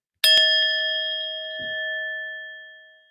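A gong struck once rings out with a bright metallic clang and a long, slowly fading tone. A faint low thump follows partway through the decay.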